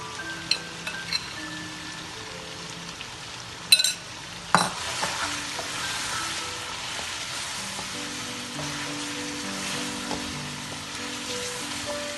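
Mutton frying in a pan with Bombay biryani masala for a Pakistani green chicken biryani, a steady low sizzle throughout with a few sharp scraping knocks of a spoon against the pan near the middle.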